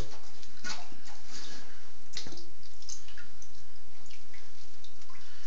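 Water streams and trickles steadily inside a toilet tank after a flush, a continuous close hiss with small splashes and drips throughout.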